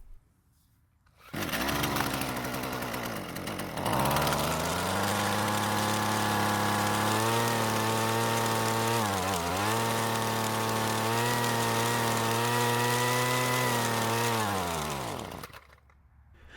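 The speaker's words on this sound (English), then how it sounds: "I want to give it another try and see if it does it again." A Husqvarna string trimmer's small two-stroke engine, being repaired, starts after a brief pull and runs loud and steady at a high buzzing pitch. The pitch dips once midway, then it keeps running before cutting out near the end.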